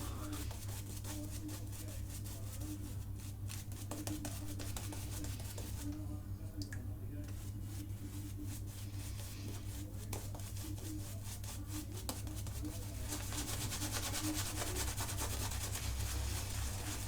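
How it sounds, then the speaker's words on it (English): A synthetic shaving brush lathers shaving cream with a continuous close wet swishing and rubbing, steady throughout under a low background hum. "Using a synthetic, I can generally use my lathering technique."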